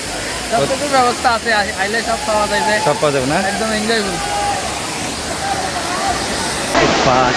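A large waterfall in Tripura roars steadily and nearby, a continuous broadband rush of falling water that runs through the whole stretch while people talk and call out over it.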